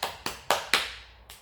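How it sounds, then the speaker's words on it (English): Hands clapping five times at a quick, even pace, close up and sharp, each clap ringing briefly before the next, with no voices. "Clapping"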